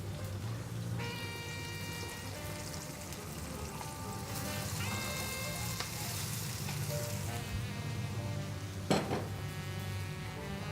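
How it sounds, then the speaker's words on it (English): Mushrooms stir-fried in a hot pan with ginger strips for a vegetarian Nubian dish spiced with Odeiga paste, giving a steady close sizzle with light clatter and one sharp knock near the end. "And then the mushrooms go in."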